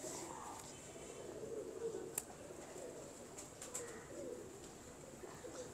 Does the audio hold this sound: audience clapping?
no